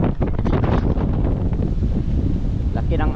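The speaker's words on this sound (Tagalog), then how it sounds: "Lakas ng hangin." Strong wind buffets a boat at sea in the West Philippine Sea, a loud, steady roar of gusts against the microphone over rough waves, with a voice speaking briefly beneath the wind.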